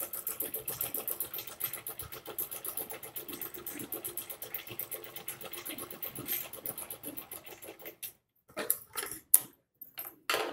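A sewing machine stitches pieces of kurti fabric with a steady, fast mechanical chatter close by. The stitching runs unbroken for about eight seconds, then stops and restarts in a few short, uneven bursts.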